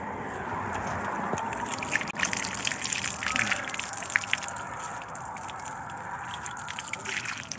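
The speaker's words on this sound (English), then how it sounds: "I need to wash my hands." Water gushes steadily from a tap or hose outdoors on a driveway while hands are washed, a continuous close splashing and trickling flow with slight sloshing changes throughout.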